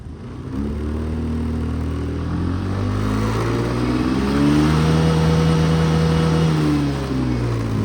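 Suzuki Address V125 S Limited Edition scooter engine revving steadily with no load or passenger while the rear wheel spins freely, a loud, continuous drone whose pitch climbs and falls in smooth sweeps, close by and without talk.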